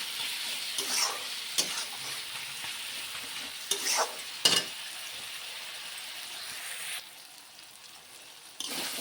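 Tomatoes with salt frying in a pan for dal tarka, a soft continuous sizzle punctuated by a few sharp clinks and scrapes of a spoon stirring, no talk.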